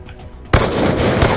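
A loud, close sniper rifle blast in Black Ops 2, a sudden explosive crack followed by a dense, sustained roar of gunfire and game noise.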